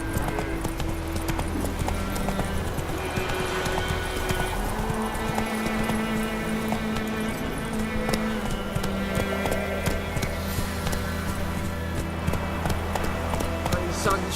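Horse hooves clip-clopping at a steady gallop in The Witcher video game, continuous and fairly close, running under game music and a voice talking.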